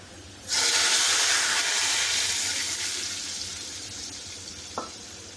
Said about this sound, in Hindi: मेरी दाल को तड़का लग रहा है